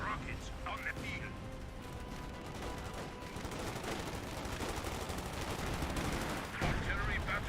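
Battle sounds in Company of Heroes 2 with MG34 machine gun fire, rapid dense bursts of gunfire and distant booms forming a constant rumbling din beneath a commentator's voice.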